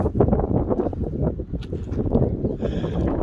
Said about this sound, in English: Oh, now there's a wind. I'm sure that you can hear it.